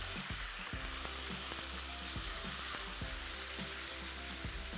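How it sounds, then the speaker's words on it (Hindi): Chicken slices frying with garlic in a pan, a dense close crackling sizzle with regular stirring taps repeating under it. "जैसे जैसे लहसुन के साथ चिकन फ्राई होगा इसका कलर चेंज होना शुरू हो जाएगा"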